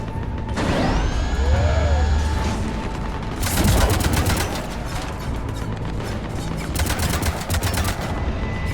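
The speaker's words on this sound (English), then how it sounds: "Cannons engaged." Cannons fire in a video game as a loud burst of rapid, booming shots mixed with whirring mechanical sweeps and tonal effects, continuing steadily over a dense, roaring backdrop.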